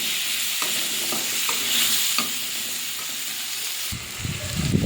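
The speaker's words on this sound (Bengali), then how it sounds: "লবণ হলুদ দিয়ে আলুটা ভেজে নেব।" Potatoes seasoned with salt and turmeric fry in oil in a pan, a steady sizzle broken by repeated stirring scrapes and clacks, with no talking.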